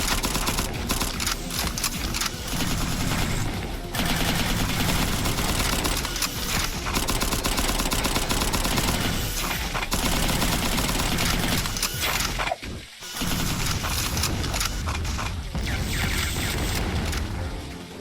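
Gunfire in the video game Cavalry Girls, with sustained loud bursts of shots and booms while turrets are destroyed, continuing almost without pause and broken by one brief gap.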